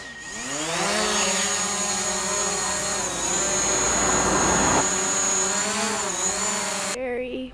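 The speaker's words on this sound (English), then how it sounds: "No, it's not food, it's a drone." A small drone flies close overhead in the Snowdonia and Peak District countryside of the UK, making a loud, continuous whirring whine that shifts in pitch as it manoeuvres and then cuts off abruptly near the end.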